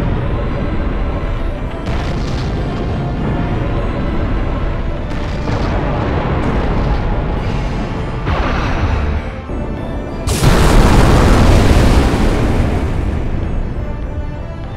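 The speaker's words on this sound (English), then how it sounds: "That's the ether cannon." In the game Robot Alchemic Drive, an ether cannon fires with a deep, rumbling roar that swells into a loud, broad blast midway and lingers, layered over dense in-game sound.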